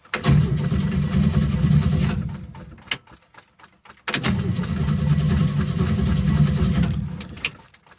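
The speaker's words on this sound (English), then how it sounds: "Gonna do a cold start on it." A 1971 Chevy C10 pickup engine cold-starts twice: it cranks and catches into a loud, rough idle for about two seconds, dies into a sputter, then fires again and runs steadily for several seconds before fading.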